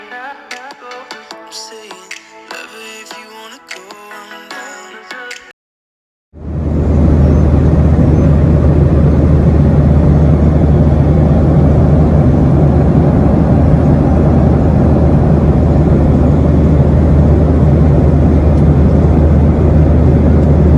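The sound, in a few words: airplane climbing after takeoff from JFK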